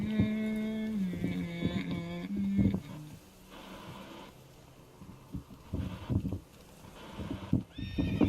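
Roach the horse in The Witcher 3 gives a loud, drawn-out whinny up front, followed by uneven hoof clip-clops and rustling movement that thin out, then pick up again near the end.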